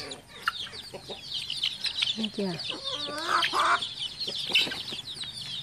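Chickens cluck and chirp steadily at close range, including a rooster that was once sick, with someone talking briefly over the flock.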